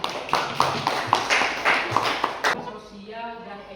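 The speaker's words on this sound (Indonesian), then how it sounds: "Oke, tepuk tangan dulu." Clapping from a history class in an Indonesian school lesson: a quick burst of hand claps with sharp irregular hits during the first two and a half seconds, fading out before the teacher speaks again.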